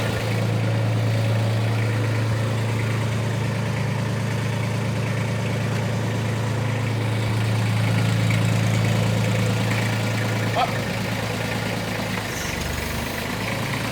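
A Kubota B2630 compact tractor engine idles steadily up close, a continuous low diesel rumble with a faint hum that shifts slightly partway through, no voices.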